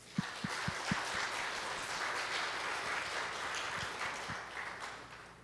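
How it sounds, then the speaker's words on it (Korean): A church congregation claps together after a call to give glory to God, a steady dense wash of applause with a few sharp claps near the start, sustained at moderate level throughout. "하나님께 우리 영광 박수 한번 돌립시다."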